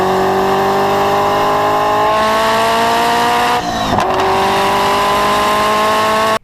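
A Ferrari F40 with a twin-turbo V8 revs loudly and close by, its pitch sweeping upward in a sustained whine before dropping briefly and climbing again, then cutting off at the end.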